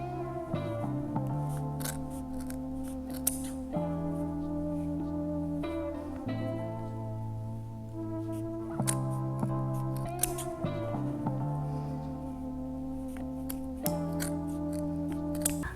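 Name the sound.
cutting fabric of pants open at the seam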